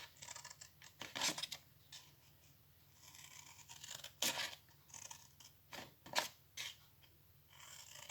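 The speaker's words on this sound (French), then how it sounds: "Nous allons venir couper tous nos plis sur le bas" Scissors cutting through the folds of a paper Easter box, a series of close, crisp snips spaced a second or two apart, with no talking.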